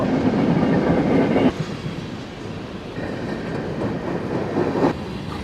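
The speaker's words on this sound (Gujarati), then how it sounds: "ઘરોની વચ્ચેથી ટ્રેન જાય છે" A train rolls past between houses in the town of Norwalk, a loud close rumble with rhythmic clickety-clack of wheels on rail that eases slightly partway through and keeps rattling steadily to the end.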